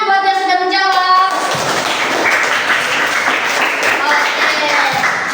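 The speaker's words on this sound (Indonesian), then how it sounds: "Tepuk tangan buat yang sudah menjawab." Schoolchildren in a classroom clap for classmates who answered, a busy, fairly loud patter of small hands following a short sung or voiced tone at the start.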